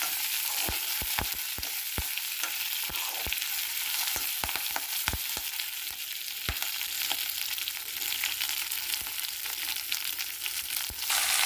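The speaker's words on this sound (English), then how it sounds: "So here I added all the greens and I am going to mix all these things together" Kale, coriander, mint and curry leaves sizzle and fry in a pan while being stirred, a steady hiss with frequent sharp scraping and clacking strokes of the spoon, close and alone without talk.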